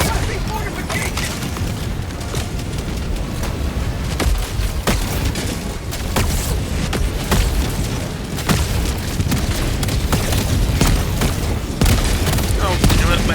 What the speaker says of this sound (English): my turret's blasting the shield